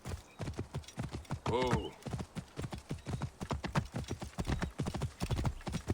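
A horse in the game Assassin's Creed Origins trots with a brisk, regular clip-clop of hooves, close and clear, and a short whinny rises partway through while someone speaks a word.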